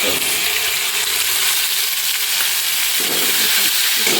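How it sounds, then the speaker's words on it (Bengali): Garlic browns in butter with a loud, unbroken sizzle close by, plus faint stirring sounds toward the end. "আমি বাটার দিয়ে রান্না করতেছি রসুনটা তো হালকা বাদামি কালার হয়েছে"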